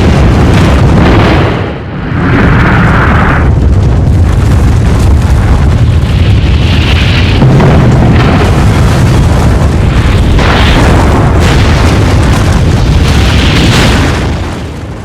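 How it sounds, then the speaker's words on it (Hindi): An atomic bomb explosion: a massive, continuous deep roaring rumble that stays loud and dense throughout, with rolling surges and no voices. "ऐसा ही होता है जब एटम बम फूटता है।"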